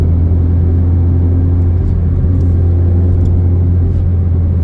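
A Fiat Punto HGT fitted with a belt-driven supercharger runs steadily, giving a loud, constant low engine drone and rumble close up, with no speech over it.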